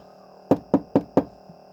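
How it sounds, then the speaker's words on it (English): Four sharp knocks on a door in quick, even succession, close and distinct against a quiet background, followed by a faint fifth tap. "I'm going to knock your door and pretend you're my customer"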